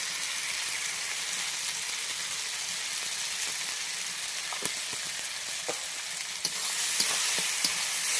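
Tomato and dried chili paste fries in a pan with a bright, even sizzle, close up, joined by a few scattered taps and scrapes of a spatula as it is stirred.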